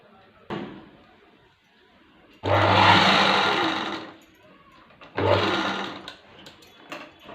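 A sewing machine stitches blouse fabric in two loud, whirring runs of a few seconds each, separated by quieter handling noises and a brief clunk.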